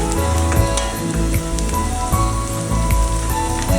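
Vermicelli upma with spices fries in a pan, giving a steady, dense sizzle up close with occasional stirring scrapes and no talk.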